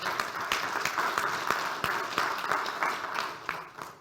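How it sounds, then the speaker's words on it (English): An audience at an international payments and blockchain conference event claps together, a dense steady patter of many hands at moderate distance that fades slightly toward the end, with no talking. "Please have a round of applause for Elizabeth."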